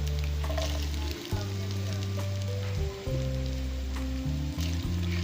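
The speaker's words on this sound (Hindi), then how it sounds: "हुण मैं प्याज पैंदी पई हाँ" Onions frying in ghee in a pan, a soft steady sizzle with a few utensil knocks and stirring scrapes, moderately quiet and close.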